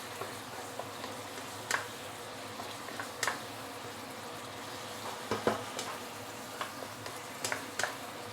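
Pork with green chili stir-fries in a hot pan, a steady loud sizzle broken by several sharp clicks and clacks of a utensil stirring and tossing, with no talking.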